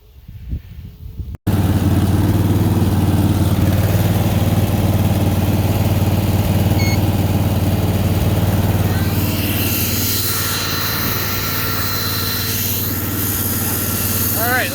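A small engine powering a homemade hedge trimmer sickle bar mower fires up after a brief pause and runs loud and steady, with a constant droning hum close by and a faint voice under it.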